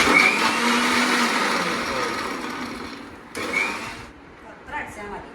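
An electric blender whirs loudly and steadily as it briefly blends grapes with sugar for juice, then cuts out, followed by a couple of short pulses.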